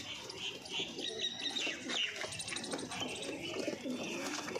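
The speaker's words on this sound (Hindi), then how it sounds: "भाई जी लालचीना कबूतर चेक करें" Lalchina pigeons, a Punjabi Malwai breed, give soft low coos amid a busy chorus of chirps and calls from many birds, steady and moderately close with no talking.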